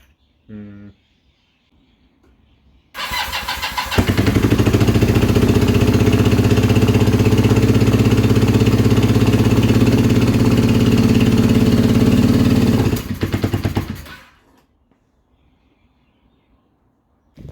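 A Kawasaki KZ440 motorcycle engine, choke on, catches after a few sputters and runs at a steady, loud idle for about ten seconds before cutting out abruptly as the bike is tilted to one side.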